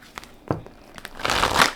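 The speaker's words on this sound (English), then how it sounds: "let's shuffle the Enchanted Map Oracle cards and see what wants to come out" Enchanted Map Oracle cards being shuffled, a few quick close papery flicks and slaps that end in a louder burst of riffling.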